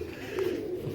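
Pigeons coo softly in a loft, a low steady murmuring that carries through the whole short moment without any voices.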